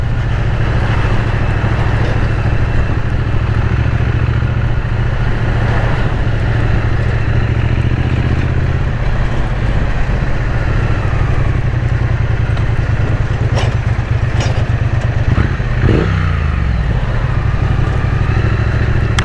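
A 2024 Triumph Speed Twin 900 motorcycle runs steadily with a muted, muffled engine rumble and a rough, continuous low note, heard close up for the whole stretch with some wind noise and no talk.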